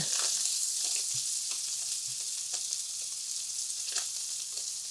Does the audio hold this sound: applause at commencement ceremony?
no